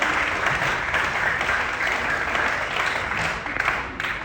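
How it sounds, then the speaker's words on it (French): A crowd applauding a lady at a civic gathering, sustained dense clapping from a sizeable audience, loud and steady throughout with slight swells near the end. "je veux un tonnerre d'applaudissements pour cette dame, notre maman"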